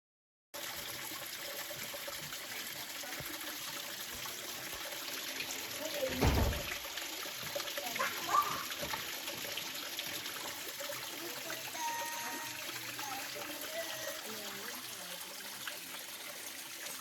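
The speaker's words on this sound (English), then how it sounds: "I saw another amazing and unique feature: water seeping through a rock" Water seeps and trickles through a rock at a lodge in Matopos, Zimbabwe, a steady close dribbling wash with a brief louder splash partway through and faint background sounds.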